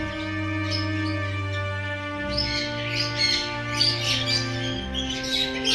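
Several small caged birds in a rose garden chirping and squawking nearby, busy overlapping calls over a steady low hum, no voices.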